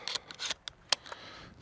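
A shell is loaded into a Remington Versa Max shotgun, giving a few faint, quick metallic clicks and slides close by.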